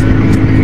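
A Yamaha NMAX scooter fitted with a 62 mm bore-up block runs with a loud, dense, steady exhaust drone, close and continuous for under a second.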